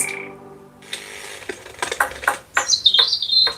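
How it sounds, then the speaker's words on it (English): Birds chirping from a cat video playing on a computer: short bright tweets and chirps, scattered and fairly clear, growing busier toward the end. "Can you guys hear the birds and everything?"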